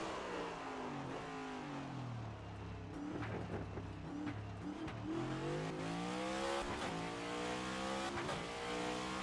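NASCAR race cars in a video game with a Martin Truex Jr championship season, engines droning and revving steadily at close range through upshifts and downshifts, with occasional tire scrubbing, the engine roar dense and continuous throughout.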